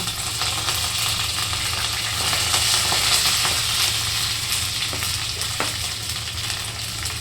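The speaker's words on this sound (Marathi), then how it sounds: "तर चला, मस्त लसूण तडका. कढीपत्ता," Garlic and curry leaves tempering in hot oil for a cauliflower dish, a loud, continuous crackling sizzle heard up close, with a few faint clinks of stirring and a low background hum.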